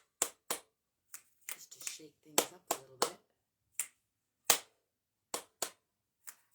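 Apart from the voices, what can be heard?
hand clapping and finger snapping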